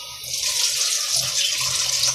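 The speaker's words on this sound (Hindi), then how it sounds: "6 गिलास पानी डाल देंगे।" Steady rush of water pouring into a cooking pot, continuous and fairly close, with no talking.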